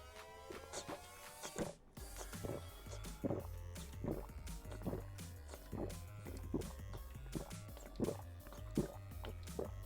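Gulping a drink with the mouth held right against the microphone, a steady run of wet, rhythmic swallows about every half second, loud and close with a brief gap early on.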